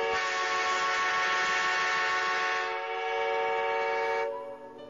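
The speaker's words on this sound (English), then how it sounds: "she heard the train whistle moaning in the distance" A train whistle sounds in the distance, one steady harmonic tone that holds for about four seconds before cutting off, faint and alone.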